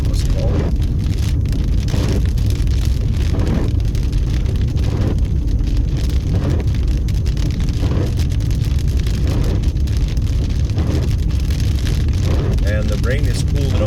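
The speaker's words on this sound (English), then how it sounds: "And the rain is cooling off now." Steady rain falls on streets in East Las Vegas, a dense, even hiss heard from inside a moving vehicle with road rumble underneath, while someone talks over it throughout.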